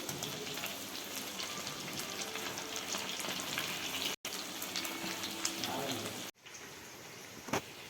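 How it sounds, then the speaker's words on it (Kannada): Potato samosa rolls deep fry in oil with a steady close sizzle and bubbling hiss, briefly cut off twice, with faint kitchen clatter. "ಸ್ವಲ್ಪ ಫ್ರೈ ಆದಮೇಲೆ ಇದನ್ನು ಪೂರ್ತಿ ಎಣ್ಣೆ ಒಳಗೆ ಹಾಕೋಬೋದು"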